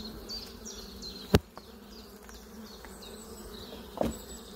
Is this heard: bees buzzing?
yes